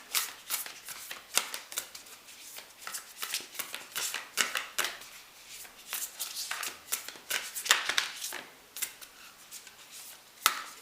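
Oracle cards shuffled by hand, a dense run of crisp riffling flutters and soft slaps repeating unevenly for about eleven seconds, close and fairly quiet with no talking.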